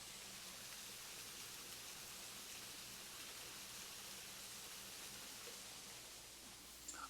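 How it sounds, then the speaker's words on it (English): A waterfall in a brown bear zoo enclosure gives off a faint, steady broadband rush like light rain, constant and distant with no voices over it. "Maybe you can hear the waterfall."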